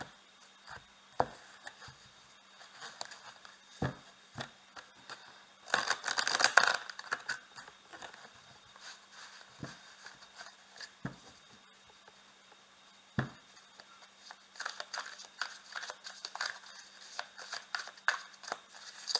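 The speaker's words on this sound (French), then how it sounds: "Allez, on va remuer les cartes." Tarot cards shuffled by hand, a soft papery riffling and tapping that comes in short bursts, with a busier flurry partway through and again near the end, quiet and close with no voices.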